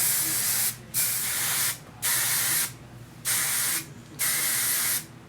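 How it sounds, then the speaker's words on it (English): An aerosol can of hairspray is sprayed onto flipped hair in five bursts separated by short pauses, each a loud, close, steady hiss. "we're just gonna flip it and start spraying"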